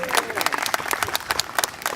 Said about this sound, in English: Give that a clap, my friends.